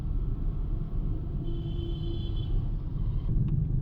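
Steady low engine rumble of a manual car pulling away slowly in first gear as the clutch is released without throttle, close and even throughout, with a faint tonal whine partway through.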